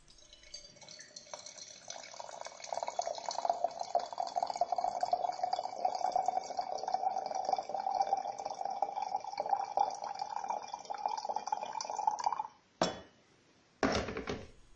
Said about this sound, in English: Boil the water again, and pour the water into the teapot.